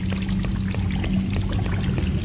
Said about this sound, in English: Because the water rises very fast, so I have to be quick.